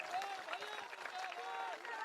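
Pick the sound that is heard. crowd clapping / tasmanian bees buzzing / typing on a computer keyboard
crowd clapping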